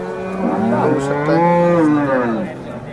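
A dairy cow lets out one long, loud, close moo that rises and then fades, with a noisy crowd murmuring behind it at the Sangola cattle market in Maharashtra.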